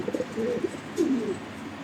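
A blue barless German Beauty pigeon pair gives two soft, low, throaty coos close by, each a short rolling phrase, over faint background hiss.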